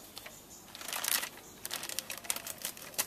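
Scissors cutting the corners off a plastic grow bag, a quiet run of crinkling plastic and small snipping sounds, close by with no talking.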